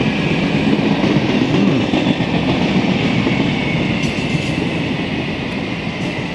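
A Montreal commuter train rolls past near an overpass on the Saint Laurent subdivision, a loud, steady rumble of railcars with clickety wheel noise sustained throughout, close by and without pause.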